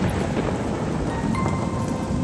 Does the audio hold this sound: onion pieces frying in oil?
no